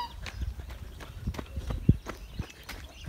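Donkey hooves clip-clopping at a resort, a handful of irregular, moderately close hoof knocks with one sharper, louder step, over faint background noise.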